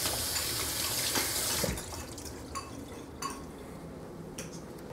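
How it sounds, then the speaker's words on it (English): Tap water runs hard into a sink over cooked orzo, a steady broadband rush that cuts off, then a few light clinks and drips of utensils and a metal pot. "rinse off the orzo and then kind of squeeze it out so it gets the excess water out of it"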